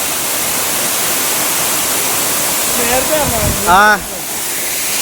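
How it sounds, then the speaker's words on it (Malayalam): Steady broadband roar of a waterfall rushing over rocks at a bathing spot, loud and continuous throughout, with a voice speaking briefly over it near the end. "പറയുന്നത് കേൾക്കത്തില്ല, വെള്ളത്തിന്റെ സൗണ്ട് കാരണം."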